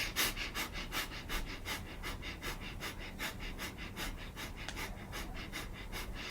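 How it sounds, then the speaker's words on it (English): Rapid breath of fire yoga breathing during a pranic swim sequence, a steady train of quick, forceful panting exhales repeating about twice per second, close and fairly soft, with no talking. "Breath of fire."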